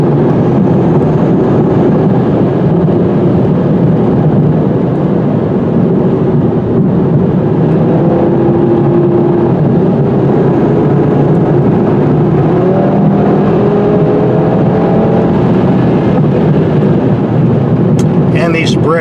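Steady, loud interior drone of a 2018 Audi TT-RS turbo engine under acceleration on the road, with a continuous low rumble and faint rising whine throughout, no pauses.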